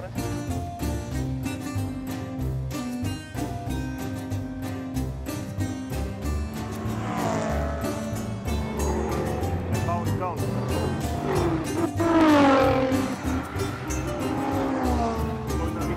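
A Subaru driven hard around a racetrack, its engine revving and climbing in pitch through repeated surges, with tire and road roar underneath and people talking over the noise.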